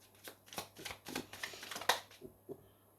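Tarot cards are shuffled close by, a run of soft riffling flicks and papery snaps in an irregular rhythm, quiet and with no talking.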